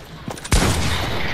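Gunfire in Fortnite, a couple of faint shots at first, then one loud close gunshot blast with a lingering noisy tail.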